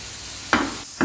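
Spice masala with tomato puree frying for dhaba-style danedar keema, a steady soft sizzle broken by two louder bursts of stirring and scraping near the end, close and without voices.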